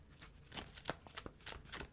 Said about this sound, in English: 2 more shuffles and I'll choose one.